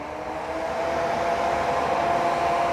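A TIG welding machine runs with a steady, even whirring hum, like a fan or blower, holding constant and moderately loud without any breaks or speech.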